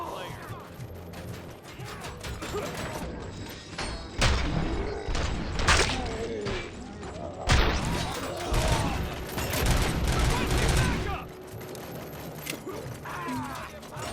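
Gunfire in Robocop: Rogue City, with bursts of heavy shots, crashes and mechanical clanks punching through loud combat noise, while voices shout during the firefight.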